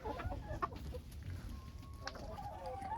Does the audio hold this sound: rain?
no